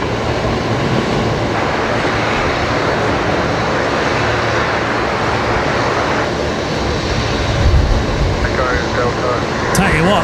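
An airplane taking off on the runway at Brisbane Airport produces a loud, sustained engine roar that holds steady throughout, with a faint voice audible underneath.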